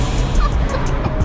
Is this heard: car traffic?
yes